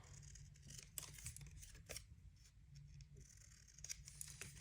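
Scissors snip through paper for a junk journal, several crisp, close cuts spaced irregularly over a few seconds, with faint rustling between them and no talking.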